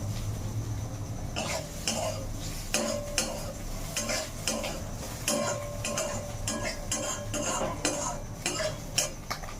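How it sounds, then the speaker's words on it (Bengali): Soaked soybean chunks frying in a pan, heard as a soft sizzle under frequent metallic clinks and scrapes of a spoon stirring against the pan, close up, with a brief cough in the background. "এরপর সয়াবিনটা ফ্রাই করে নিচ্ছি।"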